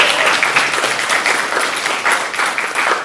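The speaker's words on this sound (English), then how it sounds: "Lots of cheering and clapping to be had today" Audience at a class celebration for a graduating class claps and cheers continuously, a loud dense patter of many hands with no break, close and alone without speech.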